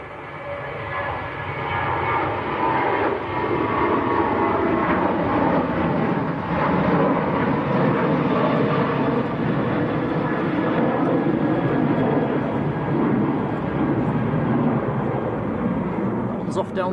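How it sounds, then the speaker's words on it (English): A Ryanair airliner takes off from Manchester Airport, a loud sustained engine roar holding steady near the runway, with speech heard over it. "Another Ryanair getting airborne."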